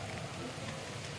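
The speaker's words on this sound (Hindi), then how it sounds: "बेमौसम बारिश और इस बारिश में रुकना पड़ा" Steady unseasonal rain patters down on a road, a continuous soft hiss with no distinct drops standing out and no voices.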